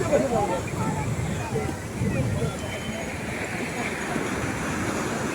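Sea waves at Arnala beach roll in as a continuous rushing surf roar mixed with wind noise, with faint voices in the background.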